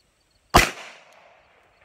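A single Glock 17 pistol shot fired at an aluminum baseball bat, one sharp, loud crack followed by a brief ringing decay into silence.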